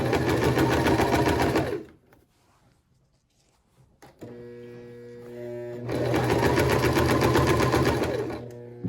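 Domestic sewing machine stitching and back stitching a 1/2 inch seam on a shirt, a loud steady mechanical whir that runs, stops briefly for a quiet gap, then resumes with a slower stitch before speeding up again.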